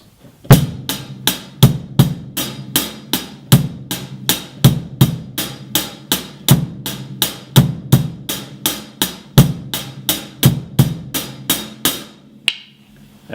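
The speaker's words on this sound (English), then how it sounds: "If you take the snare drum hand out of it and just your hi-hat and bass drum," Drum kit played with only hi-hat and bass drum, a steady stream of crisp cymbal ticks with periodic low kicks, close and clean, stopping just before the end.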